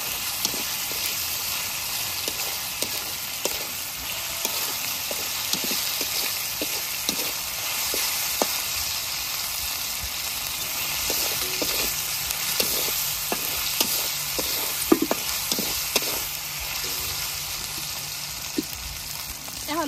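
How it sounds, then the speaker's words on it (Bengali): Chicken meat and onion with salt frying in a pan make a continuous close sizzle, punctuated by frequent scraping and stirring clicks, with no talking. "লবণ, মাংস আর পেঁয়াজটা একটু ভালোভাবে ভেজে নেই।"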